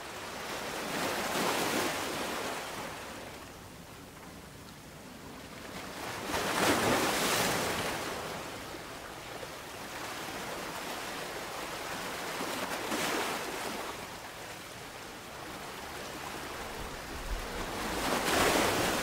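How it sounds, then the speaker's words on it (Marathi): Sea waves roll and break on Guhagar beach on the Konkan coast at sunset, with broad rushing surges swelling every few seconds over a steady wash of surf and wind, and no voices. "समुद्राच्या लाटांचा खळखळणारा आवाज"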